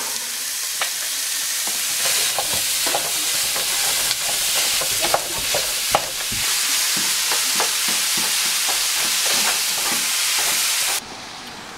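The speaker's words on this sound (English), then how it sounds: "I'm going to start with the meat. We're going to brown it." Ground beef browns in a hot frying pan for Filipino lumpia, giving a continuous loud sizzle up close. Repeated scrapes and taps of a utensil stirring the meat break through the hiss.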